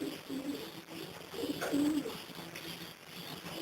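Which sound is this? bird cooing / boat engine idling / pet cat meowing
bird cooing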